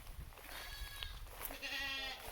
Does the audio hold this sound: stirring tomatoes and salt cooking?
no